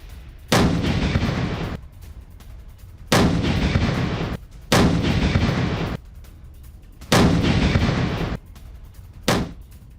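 Heavy artillery fire during a Ukrainian attack on a Russian T-72 tank near Kupiansk: five loud booming blasts at roughly two-second intervals, each with a rumbling tail, no voices.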